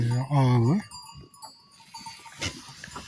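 A goat gives one loud, close bleat, followed by quieter shuffling, clinks and other farm-animal sounds.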